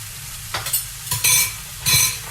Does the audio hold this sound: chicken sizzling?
yes